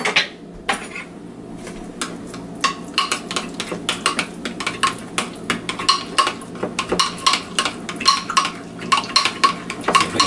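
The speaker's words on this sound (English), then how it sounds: "Then we'll go ahead and mix it up." Ingredients for coconut chicken nuggets mixed in a bowl, with repeated clinking and scraping strokes of a utensil against the dish in an uneven rhythm, close and fairly loud, with no talking.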